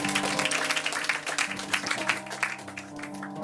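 A theatre audience at a January evening show breaks into dense, steady applause that fills the hall, with a sustained musical tone running underneath.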